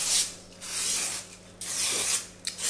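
Non-stick cooking spray hisses in short bursts into a cake pan, several close, loud sprays separated by brief pauses.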